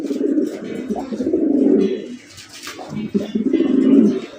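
Pigeons coo repeatedly in low, throaty rolling phrases at close range, in a Bangladeshi pigeon-keeping setting; the cooing comes in three long swells with brief gaps between them and faint chirps above.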